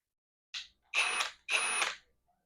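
A Hercules 20 volt half-inch cordless impact driver gives a brief blip, then two half-second bursts of high, whining motor spin, close and alone in a quiet room.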